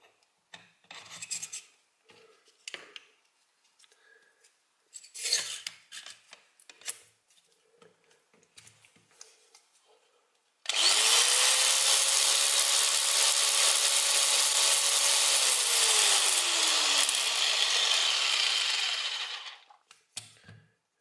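A homemade electric file is switched on for its first test, a loud harsh buzzing rasp that holds steady for about nine seconds after a stretch of scattered quiet handling clatter.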